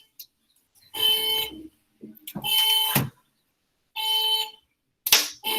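A horn or buzzer sounds outside a window in four separate loud, tonal blasts of about a second each, with short pauses between them.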